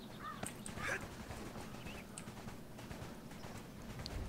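A basic mount horse in the online game ArcheAge trots along with a steady clip-clop of hooves, set under faint ambient game sounds with occasional bird caws.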